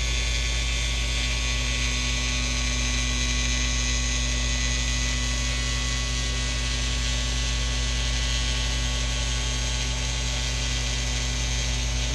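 A needle cutter machine scores a marking line under 1 millimetre deep down the centre of a wing sheet. It makes a continuous mechanical ratcheting buzz over a strong steady hum, constant and close throughout with no voices.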